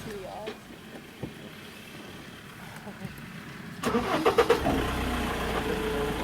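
A safari game-drive vehicle's engine idles low in the background, then grows louder with a few sharp revving bursts partway through.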